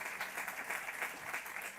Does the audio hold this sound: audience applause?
yes